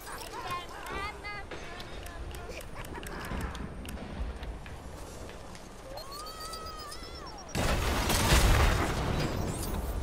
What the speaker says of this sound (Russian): Вот это взрыв.